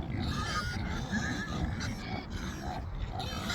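Pigs on a farm grunting and oinking in a dense, overlapping chorus close by, with a feisty, restless quality and no talk over it.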